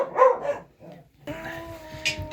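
Estonian hound puppies yip and whimper in a big kennel enclosure, a few short high barks close by, followed by a steadier background tone with a faint voice.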